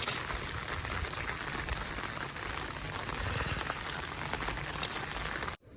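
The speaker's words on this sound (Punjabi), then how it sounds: "ਮੀਂਹ ਹਜੇ ਵੀ ਨਹੀਂ ਹਟਿਆ" Steady, dense rain patters down without a break, a broad hiss of drops on surfaces that stays even throughout before cutting off at the end.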